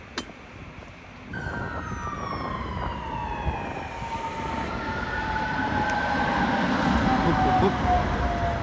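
A tram rolls past with a rising rumble and long squealing wheel tones, a brief clunk near the start, growing louder as it nears.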